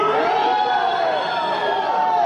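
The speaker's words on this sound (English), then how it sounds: "So everyone's booing." A crowd at a World Economic Forum speech reacts with a sustained, loud, unbroken roar of booing that holds steady throughout.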